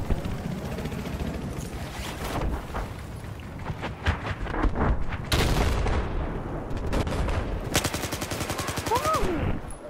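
Gunfire in the video game Battlefield 4, with loud bursts of automatic fire and sharp single shots cracking in irregular clusters over a rumbling battlefield background.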